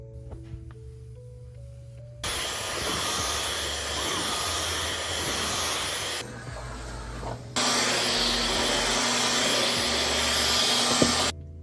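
A household vacuum cleaner runs steadily from about two seconds in, a loud broadband whine with a constant tonal hum. It dips briefly in the middle, then returns even louder, with no talking over it.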